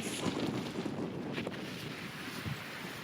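Strong wind buffets the microphone at a long, wild white-sand ocean beach on the Portuguese coast, a steady rushing roar with a faint wash of surf beneath, continuous and close, with no voices.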